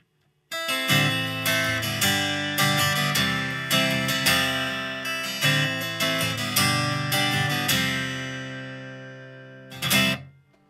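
Strummed acoustic guitar through a Line 6 StageSource L2t with acoustic body modeling switched on, continuous rhythmic chords played close and loud, ending on a final ringing strum with no voices.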